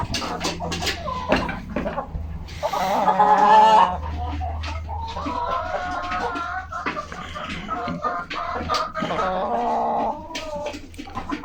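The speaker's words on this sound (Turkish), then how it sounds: "Nerede o tavuklar? Bakın biri arkadan geliyor bakın." Leghorn chickens cluck and squawk close by, with one louder drawn-out call partway through, over faint background noise.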